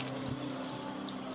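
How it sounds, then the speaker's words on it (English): A sculpture doubling as a water fountain in a courtyard, water steadily splashing and trickling in a continuous wash, moderately loud with faint drips on top and no voices. "that sculpture doubles as a water fountain"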